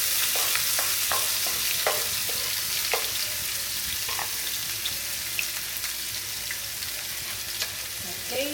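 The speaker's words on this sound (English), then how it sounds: "Okay, so I allow the oil to warm up and I'm about to add in the garlic" Diced garlic sizzles in hot oil in a pot for curry goat, a continuous close frying hiss punctuated by repeated light clicks and taps of stirring, with no one talking.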